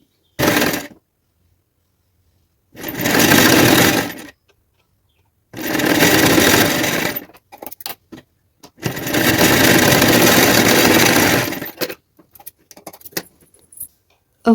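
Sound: sewing machine stitching a folded blouse fabric strip

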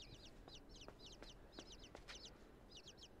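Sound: little chickens clucking in the video game Inside

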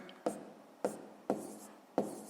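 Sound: writing out a division step in a math exercise

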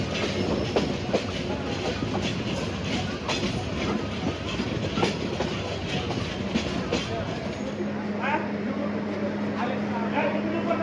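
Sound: train at a railway station

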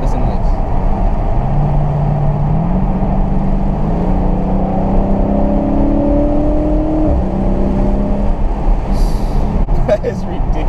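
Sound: V8 muscle car exhaust on downshift

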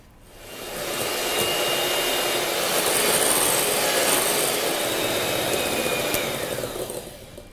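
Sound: electric mixer whipping egg whites and powdered sugar into meringue

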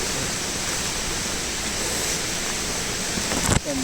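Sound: waterfall

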